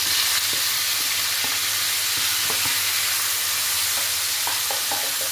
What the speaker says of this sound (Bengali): ভালো করে পেঁয়াজটা ভেজে নিই।